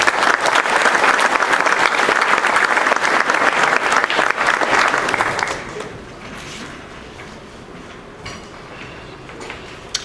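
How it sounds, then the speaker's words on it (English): Dense applause from a luncheon crowd at a high school football awards event fills the room for about five seconds, then drops away to quiet room tone with faint clinks of dishes and cutlery. "A nice round of applause for Briston Guidry."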